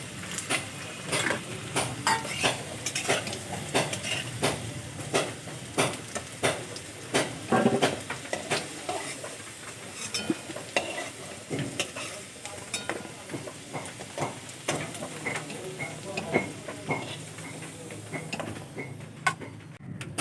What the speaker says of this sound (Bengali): আলুগুলো নামিয়ে নেব।